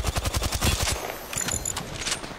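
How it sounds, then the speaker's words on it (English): Rapid automatic gunfire in a video game, a tight burst of close, sharp shots followed by a brief lull and more scattered fire. "My shots just ain't doing damage."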